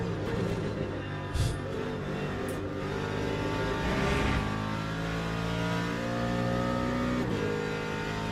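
Le Mans Ultimate's GT3 race car, driven at pace, with a continuous, loud engine that revs up and down through gear changes and carries a few sharp transient clicks, and no talk over it.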